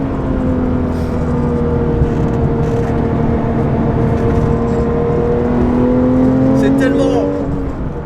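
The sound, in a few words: Porsche 911 GT3 RS 997.1 rear engine driving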